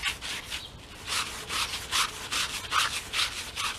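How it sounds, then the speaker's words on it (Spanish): A scouring pad scrubs rapidly back and forth over a varnished stone pine garden bench, producing a rhythmic, raspy swishing of about two strokes per second, close and clear. "con este tipo de estropajo, o con estropajo de acero, o con lija suave."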